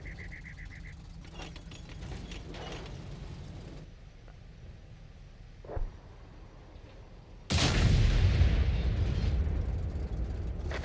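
A World of Tanks tank cannon fires with a sudden loud, sharp blast, followed by a long rumbling roar and tail. Quieter engine hum and scattered distant shots come before it, and no one speaks.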